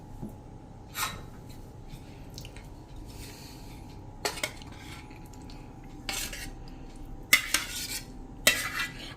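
A spoon scraping and clinking against a vessel every second or so as yogurt is spooned into a cloth-lined vessel, with soft wet plops between, close and quiet, no talking.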